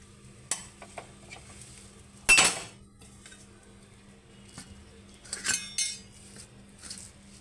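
Semolina goes into a ghee-greased pan and is stirred, with a utensil scraping and clinking against the metal in sparse bursts, one sharp clatter standing out, then softer stirring scrapes.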